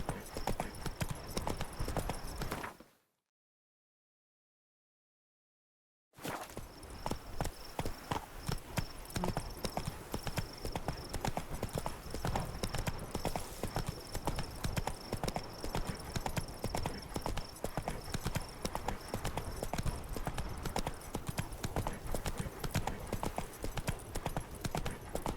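Roach the horse clip-clops steadily through The Witcher 3 Blood and Wine, hooves striking in a brisk, even gait close up for most of the clip, broken by a few seconds of total silence early on.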